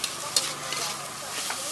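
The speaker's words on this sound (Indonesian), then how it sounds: "Oh, jadi digoreng gitu." Seblak mie goreng noodles stir-fry in a hot pan at an Indonesian street food stall in Cirebon, giving a steady loud sizzle with scraping stirs and a sharp clink of the utensil.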